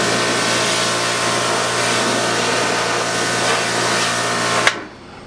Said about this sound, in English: I put this machine on my washing screen, and I take a power washer